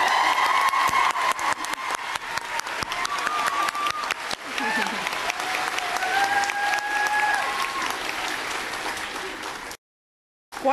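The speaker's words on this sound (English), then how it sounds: "give Mrs. Kinney a wonderful round of applause" A theatre audience at the Gaiety Theatre in Dublin gives a sustained round of applause, dense steady clapping with some cheers and whistles, breaking off abruptly near the end.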